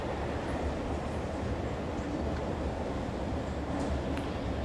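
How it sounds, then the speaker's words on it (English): Springfield monorail from The Simpsons: Tapped Out game gliding along with a steady, continuous rumble and rolling rail noise, even in level throughout with no voices. "Springfield monorail."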